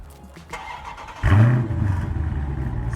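A 2019 Dodge Challenger R/T Scat Pack Widebody engine cranks and fires partway through with a loud, deep roar, then settles into a steady rumbling idle, heard close up with no talk.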